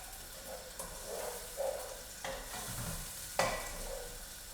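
Potato and chickpeas cooking in a pan over a gas flame give a soft, steady sizzle with occasional scraping stir strokes and a sharper clack near the end, fairly quiet and without talk.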